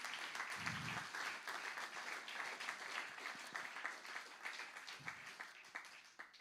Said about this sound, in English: please a big round of applause for all of those who worked in both films.